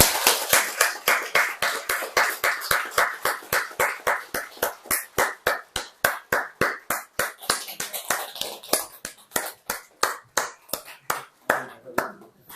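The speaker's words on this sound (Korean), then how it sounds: "박수로." A church congregation applauds newly baptized members in a Sunday morning service, clapping in a steady, even rhythm of sharp claps that carries on loud and close for the whole stretch.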